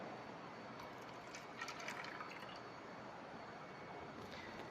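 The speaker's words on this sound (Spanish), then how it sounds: "agregamos nosotros 25 mililitros de agua" 25 ml of water poured into a calorimeter in a chemistry lab, making a faint, steady trickling splash that runs through without a break.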